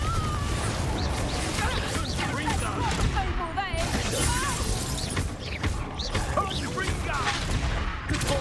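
Confringo spell blasts in the video game Hogwarts Legacy, a dense run of crackling magical impacts and crashes layered with combat effects, loud and continuous, while a voice shouts over the action.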